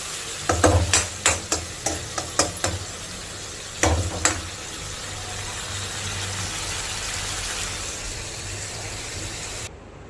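Tomatoes with spices and crushed garlic fry in a pan, with a cluster of sharp stirring clatters early on that give way to a steady, even sizzle.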